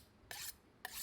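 Two separate strokes of a large fish-cleaning knife drawn across a sharpener, each a harsh rasping scrape about a quarter second long, close but quiet, with near silence between them.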